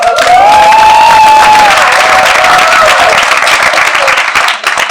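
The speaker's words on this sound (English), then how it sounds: "Let me hear the applause." Audience applause at a public sector debate competition grand final, loud sustained clapping with a raised cheer or whoop rising above it, tapering slightly near the end.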